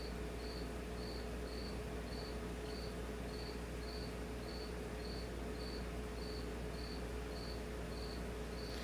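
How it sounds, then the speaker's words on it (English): A cricket chirps in steady, evenly spaced pulses throughout, faint and continuous behind a constant hum with no voices. "If you guys can hear that cricket"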